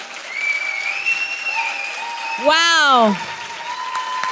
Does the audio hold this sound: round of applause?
yes